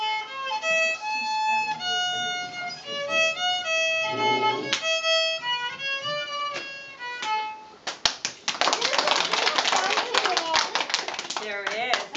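A room of people breaks into a loud, dense round of clapping for a young girl who has just played a tune on a string instrument; her bright melodic playing is heard first, then the applause fills the final seconds.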